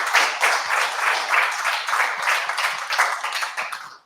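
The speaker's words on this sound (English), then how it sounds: "Another round of applause for John." Small indoor audience at a tech meetup applauds a speaker after his talk. The close, crisp clapping from a modest group holds steady for a few seconds and then fades out.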